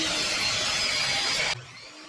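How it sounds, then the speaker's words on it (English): A miter saw cuts through wooden boards for a rustic tray, giving a loud, steady whine for about a second and a half before it cuts off abruptly and leaves a quieter mechanical hum as the blade winds down. "I'm going to go over to the miter saw, get these chopped down"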